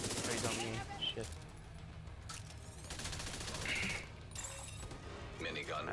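A minigun in The Division 2 fires in a rattling sustained burst that fades and returns, mixed with other gunfire and crashes, while a player talks over it.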